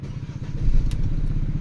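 2017 Hyundai Tucson automatic with stored fault codes cranks and fires up close by, a rapid rhythmic chugging of the starter and engine catching into a low, steady idle.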